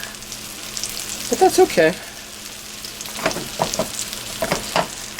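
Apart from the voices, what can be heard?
hamburgers frying in oil in a skillet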